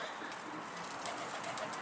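Pigeons cooing in a loft, soft continuous bird calls close by over a steady background hiss, with no talk.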